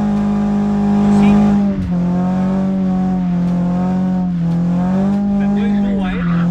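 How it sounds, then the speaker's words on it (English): A car drifts with its tires squealing loudly, a sustained screech over a steady engine drone that dips briefly and then continues close up. "Initiate the drift. And just control it."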